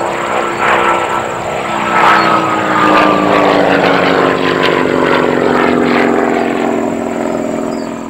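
A Percival Provost piston-engine aircraft flies past with a loud, steady propeller drone whose pitch slowly falls as it passes, sustained throughout.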